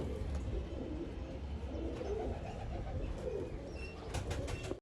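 Low, soft cooing of pigeons close by, repeating in a steady murmur with a few faint clicks and rustles near the end.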